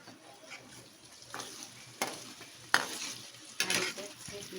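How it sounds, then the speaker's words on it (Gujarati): Raisins fry in hot oil for a Gujarati fasting chevdo, giving a faint, steady sizzle broken by several sharp stirring clicks and taps against the pan. "હવે છેલ્લે આપણે કિસમિસ તળી લેશું."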